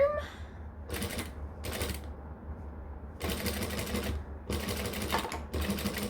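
A domestic sewing machine stitching through bulky fabric runs in short close bursts: two brief runs, then two longer steady runs separated by a pause.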